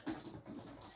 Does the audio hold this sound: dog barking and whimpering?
yes